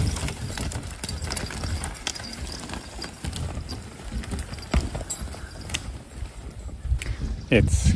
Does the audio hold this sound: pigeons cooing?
no